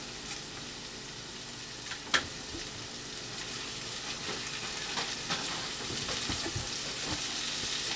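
Potatoes frying in a pan while being stirred, a steady crackling sizzle with one sharp knock and light scraping stirs building toward the end, no talking.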